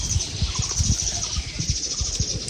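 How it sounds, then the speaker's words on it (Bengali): Birds call loudly and continuously around a village, with dense high chirping and twittering filling the air. Soft low thumps sound underneath. "কিন্তু প্রচন্ড পরিমাণে পাখিতে ডাকাডাকি করতেছে"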